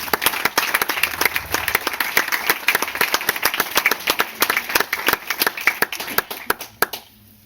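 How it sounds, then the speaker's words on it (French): A modest audience at an association's general assembly claps for a guest named Charlotte, with crisp individual handclaps in an uneven, lively patter that stops abruptly near the end. "On peut l'applaudir"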